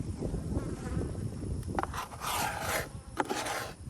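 Bees swarm around beehives during work on the colonies, a dense buzzing hum close by with scraping, rubbing bursts of hive equipment layered over it.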